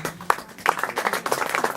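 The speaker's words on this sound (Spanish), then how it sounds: "Vamos a aplaudir a Beatriz Tombeú" A small audience at a poetry gathering gives brief, scattered applause, a handful of distinct close claps quickly blending into a light patter.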